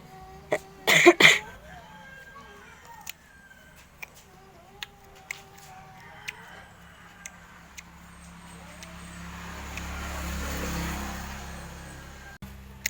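A short burst of harsh coughs near the start, then quiet household noise with a few faint clicks and a swelling rumble of passing traffic.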